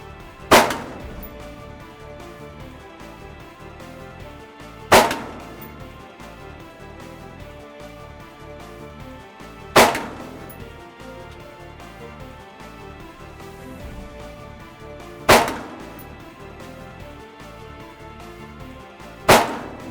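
Rifle shots on an outdoor shooting range, five sharp single reports spaced roughly five seconds apart, loud and close, with quiet background between them.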